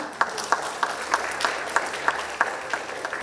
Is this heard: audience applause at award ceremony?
yes